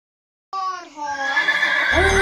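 A horse lets out a loud, close whinny after a brief silence, the neigh trailing off into further rough vocal sound.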